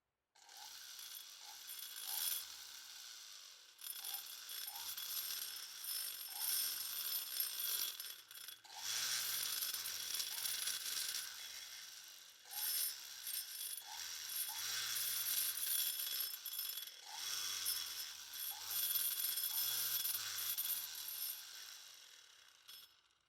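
Hand sanding of a Malossi exhaust on an MBK 51 moped with 400-grit sandpaper, a steady broadband scratchy rasp in repeated strokes with brief pauses, close and continuous, with no talking.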